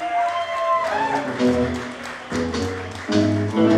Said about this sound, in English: give her a big round of applause and bring her out on stage